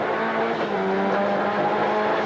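Onboard the Caltex CXT Ford Sierra race car of Colin Bond at Amaroo Park, engine droning loud and steady at high revs throughout.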